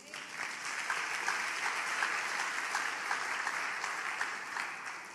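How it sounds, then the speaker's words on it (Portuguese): A church congregation applauds steadily, a dense wash of many hands clapping at an even, moderate level throughout. "Um aplauso a Jesus."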